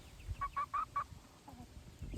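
Backyard chickens, including a Cochin bantam, give a quick run of four soft clucks, then a lower murmur, faint against a quiet outdoor background.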